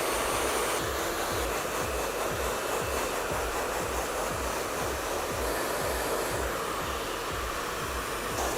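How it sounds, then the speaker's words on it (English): A hair dryer blows continuously at high power, a loud, steady rushing whoosh that fills the whole stretch without pause or speech. "give that a blast with the dryer to dry the product in"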